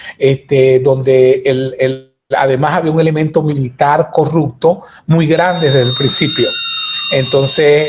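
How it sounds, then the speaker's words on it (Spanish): An alarm sounds in the background for the last few seconds as a steady high tone under continuous talk in Spanish. "eso es una alarma"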